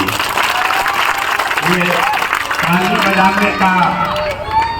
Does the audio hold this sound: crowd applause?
yes